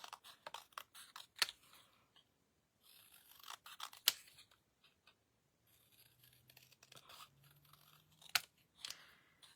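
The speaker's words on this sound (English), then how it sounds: "Maybe I could cut that frame out, that other frame out" Scissors cutting a paper frame out while crafting Christmas ornaments, faint close snips and crisp paper crunches in irregular bursts separated by quiet pauses, with a few sharper clicks.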